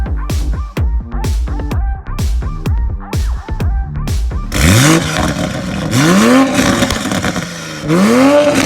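A sports car engine, either a 2020 Toyota Supra A90 build or a McLaren 570S, barks through a series of sharp throttle blips, then sweeps into long, loud revving pulls up and down, close by and alone.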